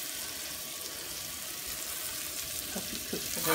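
Eggs fry in butter with a soft, steady sizzle, fairly quiet and close, with a few light clinks toward the end.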